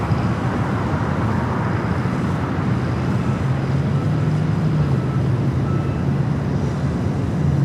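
A jet airliner taxis at Los Angeles International Airport, producing a steady, continuous engine roar and hum that holds evenly throughout at a moderate distance, with no talking.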